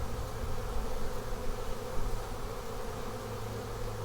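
Bees buzz steadily from an open hive holding capped brood, a dense continuous drone heard up close with no voices.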